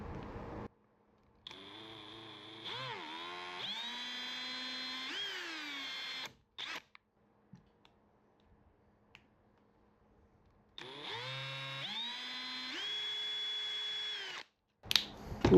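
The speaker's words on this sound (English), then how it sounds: "I'm going to drill a pilot hole in these corners so that we can have a smooth transition" A power drill bores pilot holes in the corners of a fabricated cover for a Sonex aircraft's nose gear cowling slot: two close bursts of rising motor whine separated by a quiet pause, with brief clicks between them.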